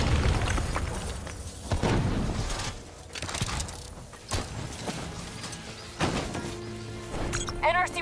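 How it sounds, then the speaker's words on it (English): Rogue robots detonate in Call of Duty Black Ops 3, giving several heavy booms and bursts among mechanical clanks and rattles, with game voices and electronic tones near the end. "They're about to detonate!"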